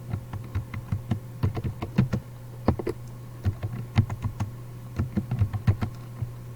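A computer keyboard being typed on to enter a school ID and password, a close run of quick, uneven key clicks over a low steady hum, with brief pauses between bursts.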